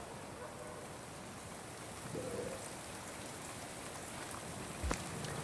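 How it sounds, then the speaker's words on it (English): Simulated rain striking various surfaces in a western desert town game level, a steady faint patter and hiss with a brief tonal blip midway and a soft thump near the end. "I've got some emitters that's meant to simulate the rain making contact with different surfaces."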